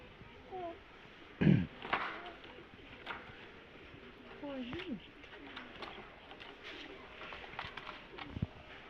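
Pigeons coo softly beside their nest, with low repeated coos and a few sharper bird calls scattered over the whole stretch, faint and close, while people talk quietly in the background.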